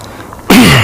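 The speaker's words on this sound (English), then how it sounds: "Whenever I get nervous, I get this cough." A nervous cough bursts out suddenly in a quiet forest setting at Aokigahara, Japan: one loud, harsh, close throaty blast after a stretch of near silence.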